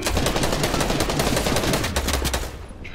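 Close, loud rapid-fire gunfire from a video game crackles in dense, continuous bursts, then tapers off toward the end.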